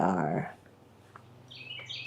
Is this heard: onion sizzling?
no